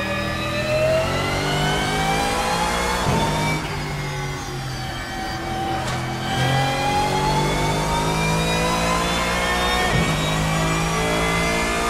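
A GT3 race car engine in a racing video game revs loud and close, climbing through the gears with sharp dips at each shift, a harsh mid-pitched drone throughout.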